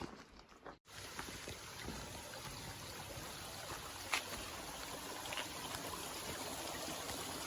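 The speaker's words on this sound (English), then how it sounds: "can hear a creek running down there" A creek runs somewhere below a trail through mixed timber on an Appalachian Trail through-hike, giving a steady, moderately distant rushing wash with a couple of faint brief knocks and no talking.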